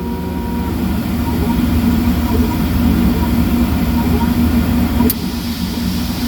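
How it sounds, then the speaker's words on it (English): Air assist on a Laser Artifex V2 laser cutter blows a steady, even rush of air with a low hum underneath, broken by a brief click and a slight shift in the flow as the cutoff solenoid switches near the end. "The job is finished, so now the cutoff solenoid turned back on."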